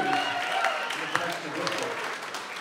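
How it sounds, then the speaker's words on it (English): Applause from the audience at a live music show at Music City Roots, a dense, even clapping that holds steady at moderate loudness with some crowd voices mixed in. "Let's have a round of applause for Connections."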